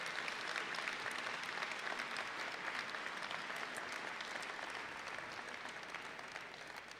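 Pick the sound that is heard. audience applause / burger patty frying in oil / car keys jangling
audience applause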